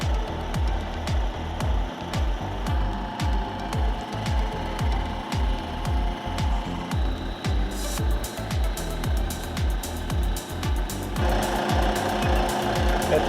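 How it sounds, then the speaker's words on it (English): A manual milling machine cuts a rotary engine part flat, producing a loud, rhythmic chattering pulse with a steady motor whine underneath, the tone shifting brighter partway through. "I've used the manual mill several times to do this exact thing"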